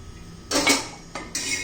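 Garlic cloves drop onto a hot griddle (tawa) in a few short, bright clattering hits, close by, with a quiet hiss between them.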